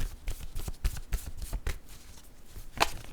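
Tarot-style cards being shuffled close by, a run of quick papery riffles and taps with one sharper snap near the end, no voices.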